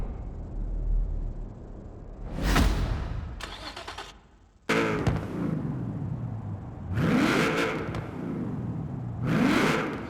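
A 2002 Nissan GT-R V-Spec II AWD in the racing video game Horizon 4 starts up and revs repeatedly, sharp rising engine sweeps and whirring bursts alternating with idle, loud and close.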